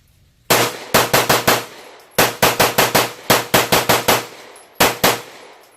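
Rapid gunfire from a CZ-USA Shadow 2 pistol, loud and close, in quick strings of about four to six shots separated by short pauses, with a couple of single shots at the end.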